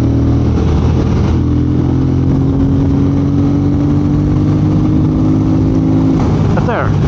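A Triumph Speed Twin motorcycle engine roars continuously while riding at speed, a loud, steady drone with wind rush and a brief pitch shift near the end.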